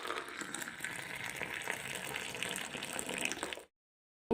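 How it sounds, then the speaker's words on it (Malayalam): Boiling water poured into a cup of RCM instant coffee powder, a steady close splashing pour lasting a few seconds before cutting to silence. "അതിനകത്തേക്ക് നമ്മൾക്ക് തിളച്ച വെള്ളം ഒഴിക്കാം"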